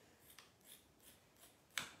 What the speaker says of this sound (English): Cut off my excess there.